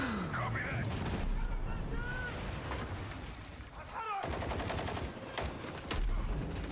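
Gunfire from a shotgun in a video game, with several loud blasts and chaotic battle noise under a person talking.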